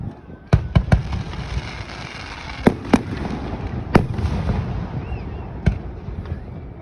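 Fourth of July fireworks mortars explode at a distance as a series of sharp, scattered cracks and booms, about eight bursts at irregular intervals, over a low rumbling outdoor background.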